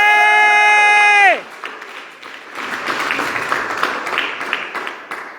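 An audience breaks into applause after a tonal, sustained sound cuts off, the clapping swelling and staying moderately loud with scattered brighter claps and a few cheers mixed in.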